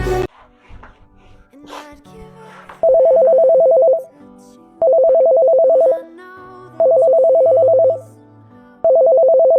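A mobile phone's ringtone plays for an incoming call in four loud, evenly spaced bursts of a tonal melody. Faint background sounds and brief vocal noises fill the start, before the ringing begins.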